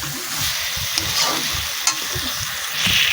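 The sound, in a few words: stirring loitta fish curry with a spatula in a pan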